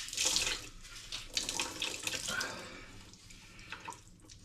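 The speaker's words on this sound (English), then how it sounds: "what I want to do now is wring it out thoroughly" Warm water pours and drips into a sink as a very wet cloth is wrung out thoroughly while a seeded loaf proofs in a slow cooker, with a steady splashing trickle that varies in strength, close by and with no voices.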